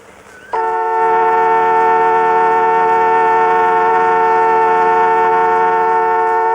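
A car horn sounds as one sustained, loud, steady blast that starts abruptly after a quiet moment and holds for several seconds.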